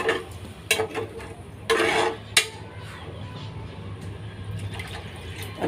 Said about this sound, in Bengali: তো পানি দিয়ে দিলাম। এখানে পানি দিয়ে এটাকে ভালো করে কষায় নেব।